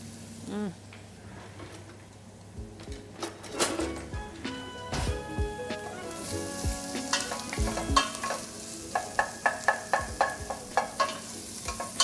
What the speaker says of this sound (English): I'm just going to add in garlic and onion that I have chopped, beautiful. and we'll just let that cook away.